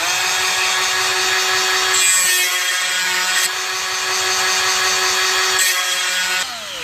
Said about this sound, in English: Now I can see how it's grinding and everything real easy.